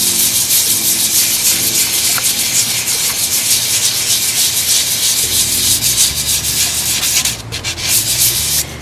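A painted wooden rocking chair being dry-sanded by hand along a painted stripe: a loud, continuous scratchy rubbing in steady back-and-forth strokes, close up, with no talking.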